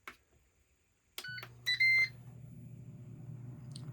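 An air fryer running off a van's inverter in a 2006 PleasureWay Excel camper gives a few short, clear electronic beeps, then settles into a steady low fan hum.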